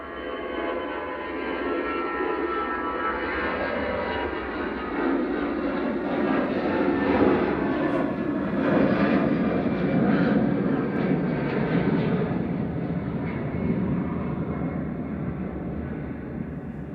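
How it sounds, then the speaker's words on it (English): An Airbus A320 Classic jet, EC-JZI, departs Manchester Airport for Barcelona with a steady, broad engine roar that swells slightly and holds for the whole stretch, loud and alone. "This is Welling 8749 to Barcelona, ECJZI departing, A320 Classic."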